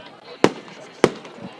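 Two sharp firework bangs about half a second apart, loud and close, go off over light crowd ambience at a varsity high school football game.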